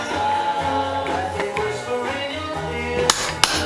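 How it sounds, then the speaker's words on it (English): A torque wrench on a rear wheel clicks at its set torque of about 100 newton meters, two sharp metallic clicks close together near the end over a steady background hum. "There it goes, you heard the wrench."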